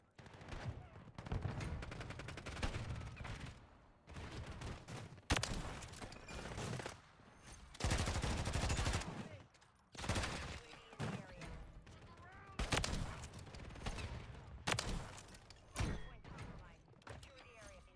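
Repeated loud bursts of automatic gunfire as a magazine is emptied in Call of Duty, with short pauses between volleys and a voice talking over parts of it.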